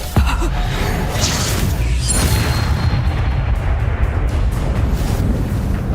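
Casting the Reducto spell in the Hogwarts Legacy video game sets off a sharp blast that opens with a sudden boom and is followed by a rumbling burst that carries on for several seconds.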